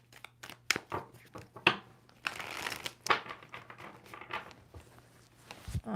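A tarot deck shuffled by hand in quick riffles and slaps, a series of crisp papery bursts with brief pauses between, close and fairly loud.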